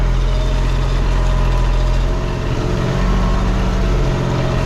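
A Deutz tractor engine runs loud and close while sowing grain corn in a field, a steady low rumble and drone that holds throughout with no speech.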